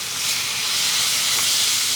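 Steady, bright sizzling hiss of Japanese curry ingredients frying in a hot frying pan, continuous and close, with no voices.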